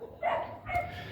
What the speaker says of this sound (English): I've got some lovely barking dogs